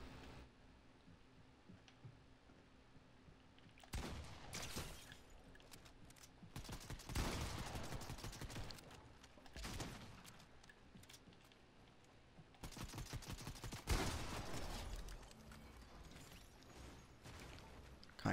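Bursts of automatic gunfire spray at an enemy in the video game Fortnite, clustered volleys of rapid shots coming in several waves over a steady low game backdrop.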